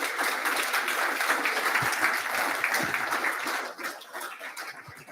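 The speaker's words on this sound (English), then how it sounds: "Can we please give a good round of applause to our amazing panelists?" An audience applauds steadily, a dense wash of clapping that holds for several seconds and then thins out toward the end.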